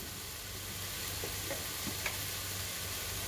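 Masala spices, including cumin powder, chili powder and garam masala, are sautéed in a pan for bread masala. A steady close sizzle runs throughout, with a few soft stirring scrapes.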